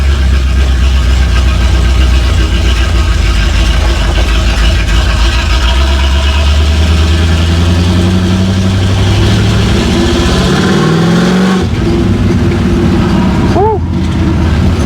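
A 1955 Buick Super's engine rumbles loud and close throughout, with strong low harmonics rising and falling as it revs while driving, plus a brief dip near the end.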